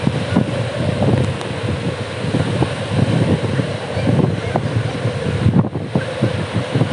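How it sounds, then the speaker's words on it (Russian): Strong wind on the Black Sea coast of Crimea howls and roars into the microphone in a continuous loud rush, with a faint hint of surf beneath. "Но ветер гудит. Слышите, как завывает?"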